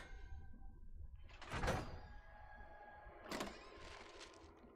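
A magic door in the video game Dragon Age Origins opens with two heavy whooshing, grinding surges over a faint tonal hum, moderately loud and with no talk.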